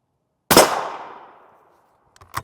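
A Savage 110 rifle firing M80 ball into a steel Level III+ armor plate: one loud metallic clang with a long ringing decay, then a sharper second impact near the end, heard alone in a quiet outdoor setting.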